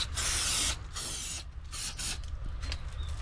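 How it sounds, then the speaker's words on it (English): Several sharp hissing bursts of termite aerosol spray, each lasting under a second, separated by short pauses, close and fairly loud. "termite spray"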